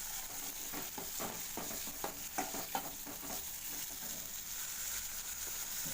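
Tomato quarters sautéing in a pan for Salem-style thakkali kurma, a steady soft sizzle with a run of rhythmic spoon scrapes and stirs in the middle, fairly quiet and close.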